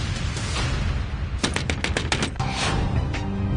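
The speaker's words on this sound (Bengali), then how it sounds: "উপরে বৌমনির ঘর থেকে দরজা ধাক্কানোর আওয়াজটা এলো না?" Someone bangs on a door upstairs, a quick run of sharp, evenly spaced knocks set against a steady loud background, heard at a moderate distance with no talking.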